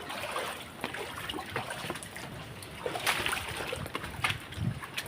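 Quiet, steady flowing floodwater with faint trickling and splashes near a gate, heard from a distance without speech.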